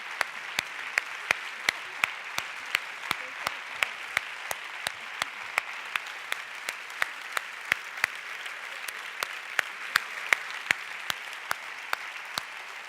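An audience at a ceremonial event claps steadily, with sharp individual claps standing out over a dense, moderately loud wash of applause that carries on without voices.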